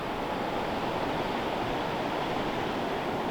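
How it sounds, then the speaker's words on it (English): Ocean surf rolls onto an Outer Banks beach in a steady, broad wash of noise, fairly soft, continuous and unbroken, with no voices. "You can hear the waves of the ocean rolling on the shore in the background."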